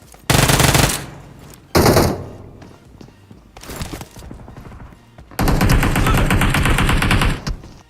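Bursts of automatic gunfire in a game of shooting and looting, loud, close and alone, with three heavy rapid volleys separated by quieter thuds and scattered single shots.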